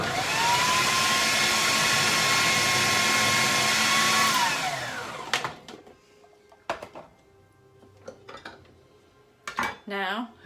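A food processor runs loud and steady while two stacked onion halves are pushed down its funnel and chopped for homemade coleslaw, then it cuts off and a few clatters and knocks follow.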